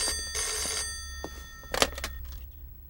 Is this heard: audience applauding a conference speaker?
no